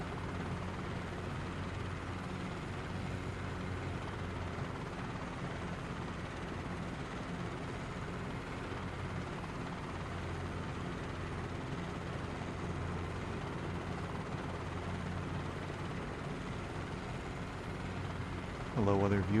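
Helicopter engine in Microsoft Flight Simulator, a steady, even rotor and turbine drone with a low tonal hum that holds unchanged for nearly the whole stretch, shifting briefly at the very end.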